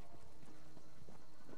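Horse hooves clip-clop in a steady rhythm while riding in The Elder Scrolls Online on the coast of Morrowind, game ambience underneath.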